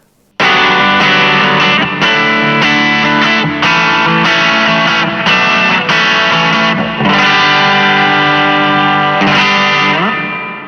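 A distorted electric guitar through a ZOOM MS-50G multi-stomp reverb with pre-delay plays a sustained chordal phrase with a spacious reverb tail, loud and continuous, with distinct echoes separating from each note.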